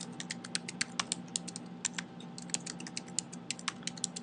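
A computer keyboard being used to type a password, with a steady run of light, crisp key taps close by over a low background hum, with no speech.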